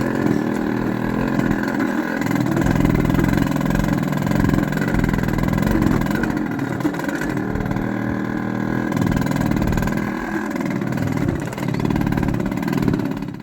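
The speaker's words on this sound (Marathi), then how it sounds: "आता आम्ही बाईक घेऊन चाललोय जंगलातून शेतात." A Yamaha RX100 motorcycle rides along a forest track toward a farm, its engine droning steadily and loud throughout with slight rises and dips in revs, and no talking.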